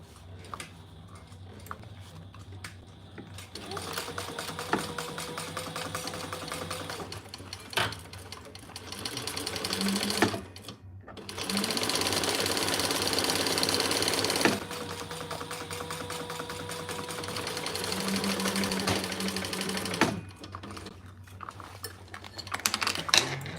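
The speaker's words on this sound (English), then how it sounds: "Same thing, fold that seam down and top stitch on the lining." A sewing machine top stitches a folded seam on a garment lining in bursts of steady rapid stitching, with short pauses between runs; close and clear, no talking.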